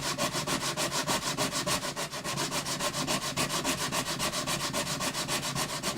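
Sanding the finish off the bridge of a Yamaha FG180 acoustic guitar produces rhythmic back-and-forth scraping strokes, close and steady, each rasping pass following the last at an even pace with no talking.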